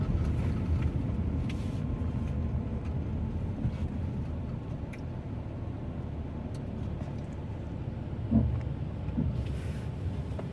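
A Wuling Cortez Turbo 1.5 automatic engine-braking after the throttle is released gives a steady, muffled low drone from inside the cabin, with faint thumps now and then.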